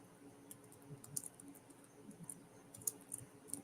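Quiet typing on a computer keyboard, soft irregular key clicks in short bursts over a faint hum, with no speech.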